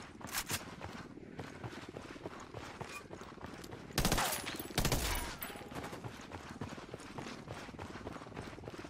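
Mk 18 rifle gunshots in a video game, a couple of sharp, loud cracks close together in the middle, set against a busy background of quieter rapid clicking and footsteps.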